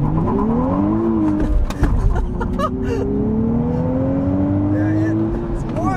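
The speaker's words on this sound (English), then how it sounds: "let's try an acceleration from a stop with traction control off." A 2023 Nissan Z with a manual gearbox launches from a stop with traction control off, its engine rising loudly through the revs, with a brief burst of wheel spin and a gear change, heard from inside the car while the driver laughs and talks.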